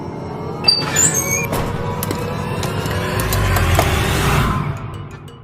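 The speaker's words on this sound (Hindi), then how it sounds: "ओ गाड़ी आ गई।" A vehicle rolls up close by, its engine rumble swelling and broadening over a few seconds before easing off, with a couple of sharp knocks near the start.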